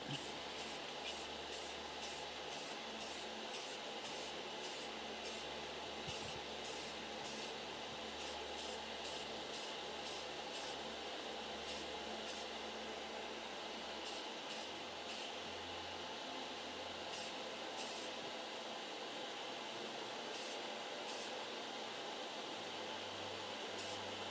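A paint spray gun hisses continuously while laying a heavy coat, a steady, close, dense spray running the whole time with faint intermittent ticking above it.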